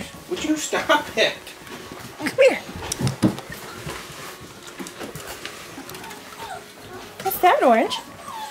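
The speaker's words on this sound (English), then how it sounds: "Good puppies. Good puppies." Young puppies whimpering and yipping close by in high, wavering cries, several short bursts scattered across a few seconds, with a person talking to them in between.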